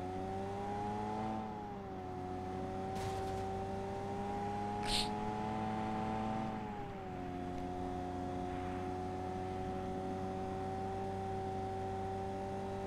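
A Ferrari in PUBG Mobile drives with a steady, droning engine hum that dips and shifts pitch slightly as it cruises, holding a constant loud level throughout with a brief sharp blip midway.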